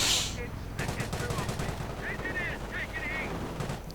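Rifle and sniper gunfire crackles through a busy strategy video game battle, with rifle grenadiers under fire, rapid overlapping shots and game effects layered under steady commentary.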